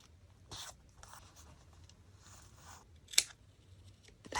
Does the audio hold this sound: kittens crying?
no